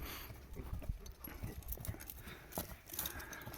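A tall horse walks back and forth on hard ground while being shown to buyers, its hooves clip-clopping in a steady, moderately close walking rhythm with no speech over it.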